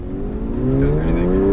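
The engine and exhaust of a 2006 Porsche 911 Carrera S rise steadily in pitch as it accelerates, heard from inside the car as a loud, continuous drone.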